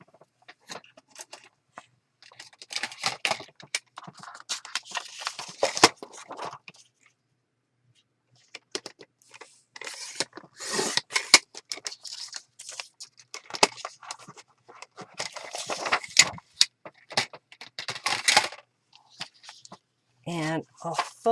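Scissors cutting through napkin lace paper for a journal page make crisp, crunchy snipping bursts in irregular runs, close up, with a short pause near the start.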